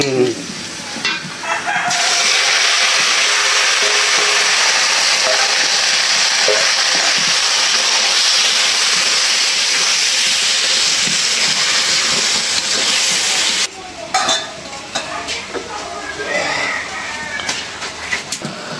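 Shrimp with mixed greens hiss loudly in hot oil in a village kitchen, a dense, steady sizzle for most of the stretch, then scraping stirs and clatter as it settles, with voices talking now and then.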